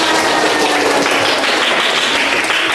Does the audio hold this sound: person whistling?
no